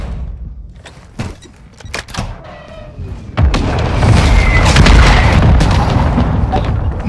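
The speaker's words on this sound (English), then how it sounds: "Hostile mortar strike near your position." Mortar strike explosions in the Modern Warfare II (2022) video game: a few sharp booms and thuds at first, then a loud, sustained rumbling blast with debris that fills the rest of the scene.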